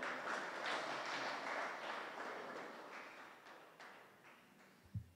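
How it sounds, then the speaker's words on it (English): Audience applause at the close of a talk on bridging the public and private sectors, a soft, dense patter of clapping that slowly fades over a few seconds, somewhat distant and quiet. "We can give him another round of applause."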